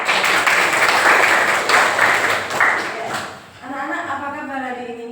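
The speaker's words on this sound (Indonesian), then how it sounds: "Tepuk tangan." Students in a classroom clap together in a brisk burst of applause lasting a few seconds, then it stops and a voice starts talking.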